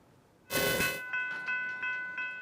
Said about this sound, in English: The tolling of Brunswick's upfield train line is hard to miss.